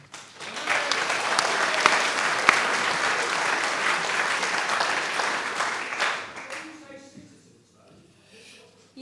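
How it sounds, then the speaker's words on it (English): An audience at a 2017 parliamentary candidates' hustings debate in Stroud applauds steadily for about six seconds, then the clapping fades out into quiet room noise. "They clap."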